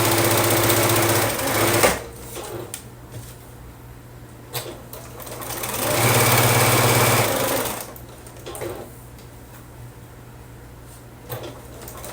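A sewing machine stitches a quilt block in two loud, steady runs, one short burst at the start and a longer one in the middle, with quieter handling noises and pauses between.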